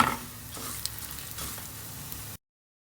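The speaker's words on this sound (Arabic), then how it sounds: "شعرية هحمصها شوية" Vermicelli toasts in butter and oil in a pan, a soft, steady frying hiss with faint stirring taps, close by, ending abruptly in silence.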